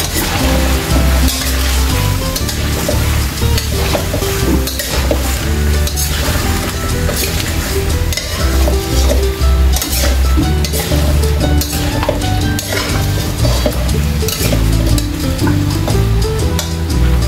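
Vegetables sizzle loudly in a hot pan while a utensil stirs and scrapes, with frequent clinks against the metal, steady and close throughout.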